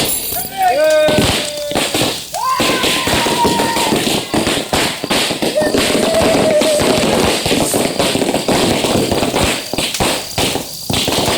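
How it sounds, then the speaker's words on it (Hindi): Firecrackers go off outdoors during a festive celebration, loud sharp pops and crackles coming in a dense continuous stream over about eleven seconds, with whistling rockets rising and voices mixed into the noise. "पटाखे अच्छे नहीं लगते क्या?"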